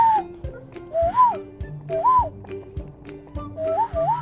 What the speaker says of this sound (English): It's a little whistle.